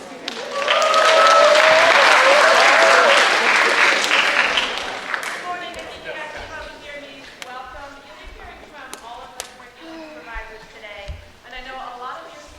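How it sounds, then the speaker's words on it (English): An audience at an eighth-grade school step-up day claps loudly in a burst of applause that gradually fades, leaving scattered claps and some talking as it dies down. "let's give her a round of applause"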